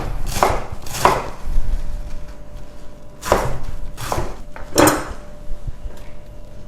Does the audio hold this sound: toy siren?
no